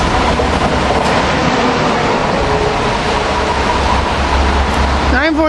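A light AEM7 electric locomotive running alone northbound on the Northeast Corridor near Cornwells Heights, passing close with a loud, steady rumble and rail noise, a horn-like tonal sweep near the end.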